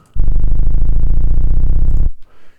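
A DubSub bass synth plugin processing a plain sine wave, giving a loud, buzzy, rumbling low tone that holds steady for about two seconds and then cuts off abruptly.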